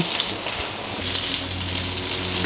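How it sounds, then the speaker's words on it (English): Steady, dense sizzling of chicken schnitzels frying in hot oil over medium heat, a constant crackle with a low hum underneath and no talking. "frying the chicken schnitzels in the same way over a medium heat until they're golden brown"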